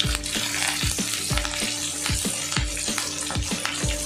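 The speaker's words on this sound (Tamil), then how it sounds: "நல்லா மீன் பொரியட்டும்." A whole fish fries in hot oil with a dense, continuous crackling sizzle, steady and close, broken by regular soft pops and bubbling with no voices present.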